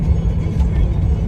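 A Porsche 911 of the 996 generation fitted with a Design Tek exhaust drives along, its engine giving a steady, loud low rumble from inside the car.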